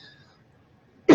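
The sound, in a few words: woman coughing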